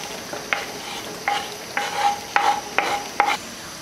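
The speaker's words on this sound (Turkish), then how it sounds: "Ve içerisine bir çay bardağı zeytinyağı ekledim. Ve soğanları ekliyorum." Onions sizzle in a teacup of olive oil in a pan, with a soft frying hiss broken by about six sharp scraping stirs of a utensil, up close and without speech.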